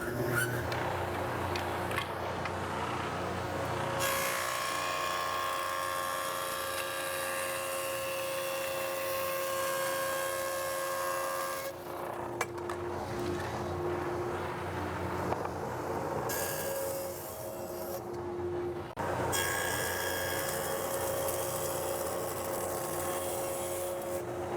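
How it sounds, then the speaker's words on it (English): A jointer squaring the edge and face of a board ahead of bandsaw resawing for veneer, a steady machine whine with long passes of cutting hiss that drop and resume, moderately distant and alone. "we're going to put a square edge on that board, and we're going to do that with the joiner"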